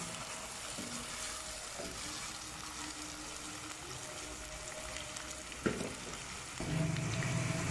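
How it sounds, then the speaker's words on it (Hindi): Onion, ginger and garlic fry in a pan with a steady, close sizzle running throughout, broken by a few stirring scrapes and a sharp knock near the end. "प्याज अदरक और लहसुन को हल्का सा ब्राउन करेंगे।"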